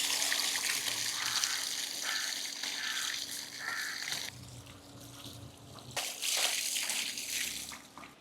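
Peeled onions being washed by hand in water to rinse off soil, with soft splashing, trickling and sloshing that swells and pauses in bursts, close and quiet.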